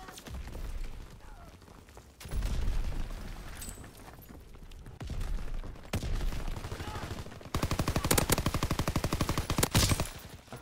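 Gunfire in a video game shooter: bursts of rapid automatic fire in separate stretches, the last burst loud and sustained, with a voice talking in between.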